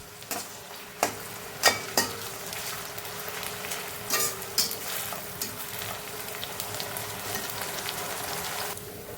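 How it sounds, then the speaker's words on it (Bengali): Onions fry in hot oil until reddish brown, a steady close sizzle broken by sharp scrapes and knocks of a spoon stirring the pan, busier at first and then settling into an even hiss. "একটু ভালো করে আমি পেঁয়াজটা লাল লাল করে ভেজে নেব।"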